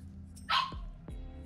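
Dog giving a single sharp bark followed by a short whimpering yip, heard fairly faintly over a quiet background hum.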